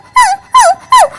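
A human voice mimics a frightened puppy with three quick, high whimpering yelps, evenly spaced and close.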